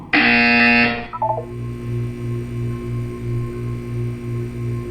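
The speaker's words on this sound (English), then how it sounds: "When you hear the buzzer, look down at the floor." A loud, harsh buzzer from Portal 2 blares for about a second, then gives way to a steady electronic hum with a low, pulsing beat.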